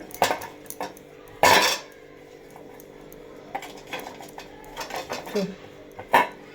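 Metal idli steamer plates clank and rattle as they are greased with oil, giving scattered sharp clinks and one louder clatter, close by, with quiet gaps and faint background voices.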